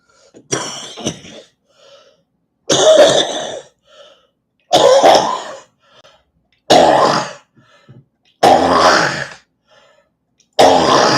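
Six harsh, throaty coughs come in separate bursts a couple of seconds apart, loud and close, with brief quiet breaths between them.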